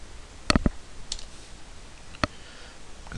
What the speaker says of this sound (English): Switching between my horizontal and vertical mode by just hitting the H or V key on the keyboard